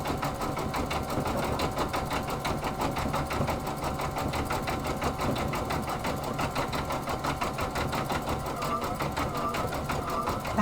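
A Brother Stellaire sewing machine stitches down couching yarn in a fast, steady mechanical whir that runs continuously and close by, with no pauses.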